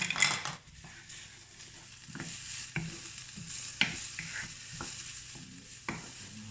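Garlic and onions fry in a saucepan with a steady sizzle, broken by intermittent stirring scrapes and clicks of a utensil against the pan, close and alone without talk.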